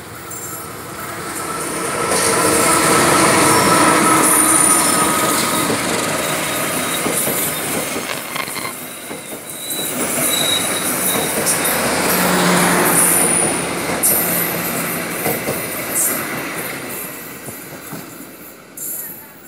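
The Pangrango passenger train speeds past on its rails near kilometre 54.2 toward Sukabumi, with a loud, sustained rumble of wheels that swells and fades again, broken by scattered squeals and rattling.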